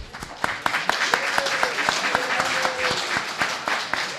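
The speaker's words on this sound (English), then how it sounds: "So let's give a round of applause." Audience at a Gross National Happiness conference wrap-up applauds steadily, a dense run of claps from a fairly close crowd lasting the whole stretch, with a faint voice or tone threading through.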